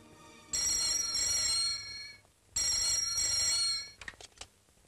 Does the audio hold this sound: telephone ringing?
yes